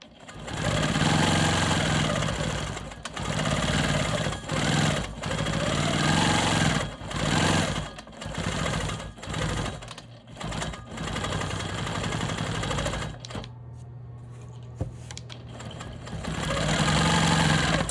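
A Quilt Maker Pro 20 quilting machine stitches smoky swirls, a steady loud mechanical whir that runs continuously with brief slowdowns and short pauses, then a quieter hum before stitching resumes at full speed.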